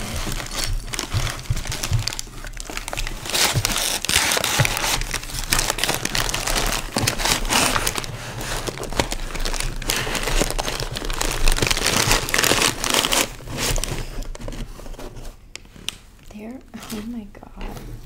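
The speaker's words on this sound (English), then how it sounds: "that's what's starting to fall out of that tissue paper as I unwrap it" Tissue paper crinkles and rustles almost continuously as a coffee cup is unwrapped close up, with soft speech running underneath throughout.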